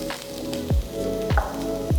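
Cashews sizzle steadily in hot oil, with three soft thumps of stirring at regular intervals.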